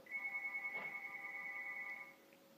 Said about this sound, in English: And now the phone's ringing, but it's all good.